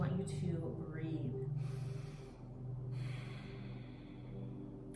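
Slow, deep breathing during a lower-body stretch, with long drawn breaths rising and falling against a steady low hum of background music, close and moderately quiet.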